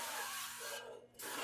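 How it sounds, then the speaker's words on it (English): Avocado oil cooking spray hisses in a steady, broad burst while greasing a cake pan for an almond flour cake, briefly pausing before the spray resumes, close and fairly quiet. "Just using some avocado oil spray here."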